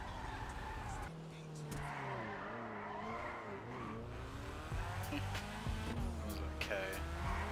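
Car engine revving and tires skidding as a car drifts around corners in GTA 5, a steady game-engine drone with rising and falling pitch, talk heard over it.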